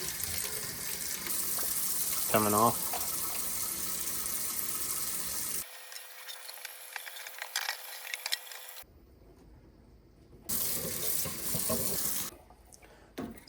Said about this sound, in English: Hot water through there too.